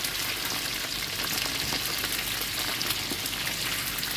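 Small crabs frying in hot oil in a pan, a loud, steady crackling sizzle that continues without a break and with no talk over it.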